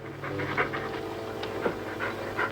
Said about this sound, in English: Stop breathing down my neck, too.